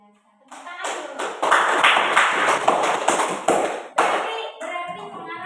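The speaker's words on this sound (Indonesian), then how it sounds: "Tepuk tangan dulu." A classroom of students claps hands together, a lively burst of crowded clapping that starts suddenly, swells and then thins out, with talk faintly beneath.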